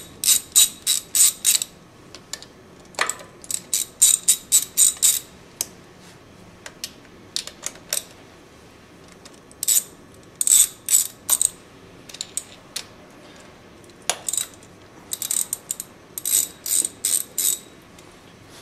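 A ratchet with a 13 mm socket works the fasteners on an air compressor, giving close, crisp clicking bursts in irregular clusters separated by short pauses, with no talk.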